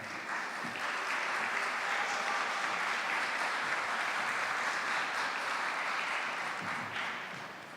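Steady, dense applause from an audience at a primary school debating championship, sustained evenly for several seconds with no voices on top, tapering slightly at the end.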